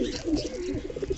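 Pigeons coo softly inside a loft on a rainy day, a brief murmur of low throaty calls close by with faint rustling.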